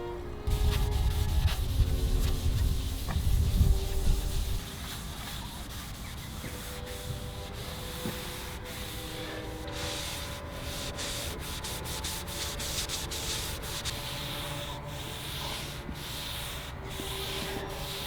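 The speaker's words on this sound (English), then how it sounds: "To shine it up and reveal all of the imperfections, I'm using a red Scotch-Brite pad and WD-40." Steady abrasive scrubbing of a red Scotch-Brite pad with WD-40 over the metal of an old Wadkin spindle moulder, loud and coarse at first, then softer in a constant back-and-forth rasp.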